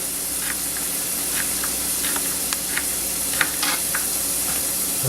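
Sliced garlic sautéing in a home-kitchen pan gives a steady, close sizzle and hiss with scattered small pops and crackles running throughout, no voices.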